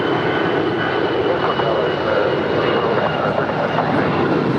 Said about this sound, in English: That is Alaska 1373 departing to Portland. It's an A320.